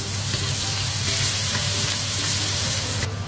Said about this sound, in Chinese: 先把泡菜的乳膻味炒出来。